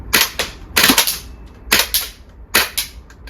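VFC gas blowback MP5 airsoft gun in cold weather, four loud close cracks spaced about a second apart, some landing as quick doubled shots with a sharp mechanical snap.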